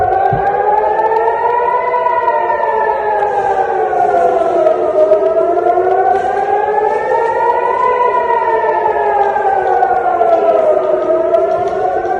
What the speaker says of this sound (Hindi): ये एयरपोर्ट पर सन्नाटा, सिर्फ सायरन की आवाजें।